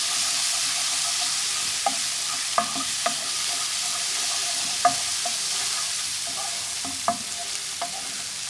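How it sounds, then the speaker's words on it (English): Ginger and garlic paste fries with onions in a pan for a chickpea and spinach curry, making a steady soft sizzle, while a spoon taps and scrapes against the pan now and then, with no voices. "Let's add the ginger and garlic paste. Let's give that a stir."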